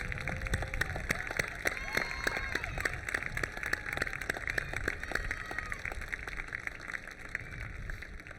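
Sustained applause at a high school commencement as National Honor Society graduates of the class of 2023 stand, dense clapping filling the hall steadily throughout with a faint murmur of the crowd beneath.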